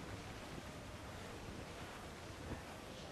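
Calm sea waves with wind in the video game Assassin's Creed 4 Black Flag, a steady broad wash of surf noise with a faint swell, continuous and without speech.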